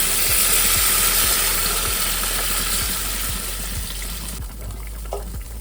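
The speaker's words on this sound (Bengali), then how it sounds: "এরপর এর মধ্যে দিয়ে দেবো একটুখানি গরম জল।" Hot water pours steadily into a pan of frying potatoes and eggplant, a close, loud rushing splash that gradually softens and thins out toward the end.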